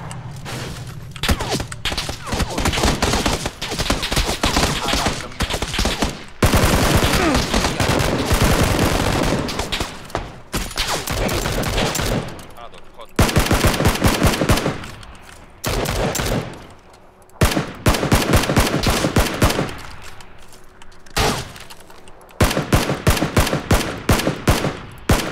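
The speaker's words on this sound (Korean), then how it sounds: "뭐 쏘는데 자꾸?" Repeated bursts of machine gun fire in PUBG Battlegrounds, squad third-person mode, with rapid volleys broken by short pauses and a few sharp thuds, loud and close throughout.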